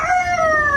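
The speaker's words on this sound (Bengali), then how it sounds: "দেখছো কত সুন্দর করে ডাকে," A rooster crows once, a short, loud, clear call with steady, slightly falling pitch, and no other sound.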